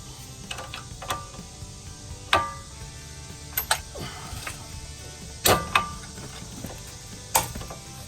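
Breaker bar and socket wrench loosening a strut bolt on a 2013 Kia Sorento EX FWD, a series of sharp metallic clicks and clanks spaced a second or two apart over a low background hum.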